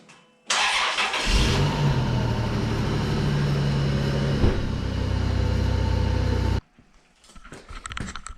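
Engine of a 2005 Chrysler Pacifica, fresh from a radiator replacement, cranks and starts, then idles loudly and steadily for about six seconds before being shut off, leaving quiet garage sounds.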